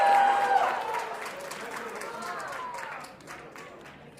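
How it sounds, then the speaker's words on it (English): Wedding guests applauding and cheering the newlyweds after their first dance, a dense wash of clapping and crowd noise that is loudest at the start and then eases to a steady, slightly softer roar. "a big round of applause for your newlyweds"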